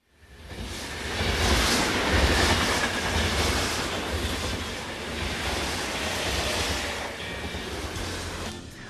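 A SEPTA subway train in Philadelphia rushes through an underground tunnel, its loud, steady roar and rattling wheel noise swelling in quickly and holding throughout, with no talk.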